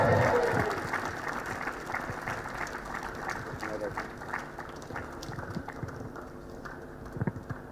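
A crowd applauds continuously for a 17-year-old player at the final of the Harven Pro Tennis League on centre court; the dense clapping stays steady and fairly loud, then thins slightly, with voices and other sounds mixed underneath.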